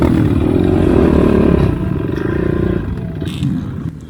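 Dirt bike engines, an EGL 250, a KO and a Honda, drone loudly with a low rumbling buzz that eases off near the end, recorded from a bike riding behind them.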